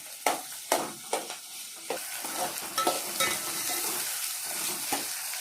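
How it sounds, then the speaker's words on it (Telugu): Onion and tomato frying in a pan for cabbage curry: a steady sizzle with sharp scraping stirs and clanks of the spoon against the pan, close and fairly loud. "తర్వాత కొంచెం ఎర్రగడ్డ మగ్గిందండి, టమాటా వేస్తున్నానండి."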